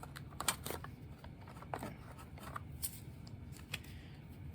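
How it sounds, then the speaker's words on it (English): Uno cards riffle and flick through a card shuffler, a faint, soft rapid fluttering with a few sharper snaps, heard alone in a quiet room. "I'm going to go ahead and shuffle them on the card shuffler right here."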